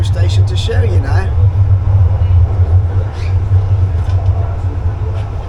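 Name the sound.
subway train approaching a metro station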